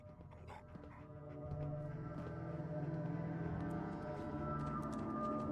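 Dogmeat, the dog companion in Fallout 4, pants in quick, soft breaths over a low game ambience with faint background tones. The panting comes from close by and is fairly quiet.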